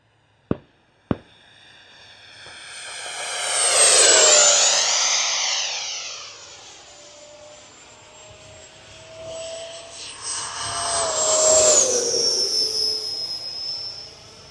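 E-Flite 80mm F-16 RC model jet at full throttle, its ducted fan whining in as it approaches and sweeping past with a clear pitch drop, then making a second fainter pass, after two sharp clicks at the start.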